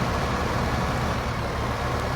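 Steady low engine drone of a farm vehicle in Farming Simulator 15, a continuous broadband rumble held at an even level throughout, with no talk over it.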